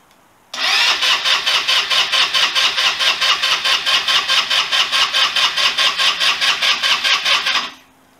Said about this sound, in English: cranking speed is getting better.